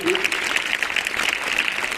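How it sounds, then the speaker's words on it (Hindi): A school audience at Pathshala School in Uklana claps steadily for a former student newly selected as a sub-inspector, a dense, even patter of many hands lasting throughout, with a voice or two faintly mixed in. "इनके लिए एक बार जोरदार तालियां हो जाए।"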